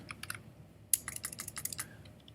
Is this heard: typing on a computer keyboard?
yes